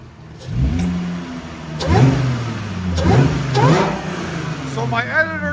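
Supercharged 3.0L V6 of a 2018 Audi A7 running with its muffler deleted, revved in four or five quick, loud, snarling bursts over a steady idle at close range.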